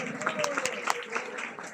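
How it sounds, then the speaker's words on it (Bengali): An audience claps hands at a devotional kirtan gathering about Jagannath, a dense patter of applause that is loud and close and mixed with overlapping voices talking throughout. "হাতে তালি জোরে।"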